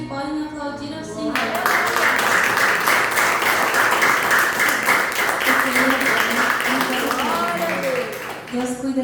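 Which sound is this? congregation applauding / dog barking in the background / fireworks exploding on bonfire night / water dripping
congregation applauding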